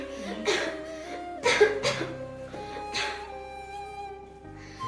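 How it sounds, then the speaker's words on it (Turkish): A man with breathing difficulty coughs several short times in quick succession during a doctor's examination, close by, with a brief pause between groups and faint background noise. "Çok öksürüyorum"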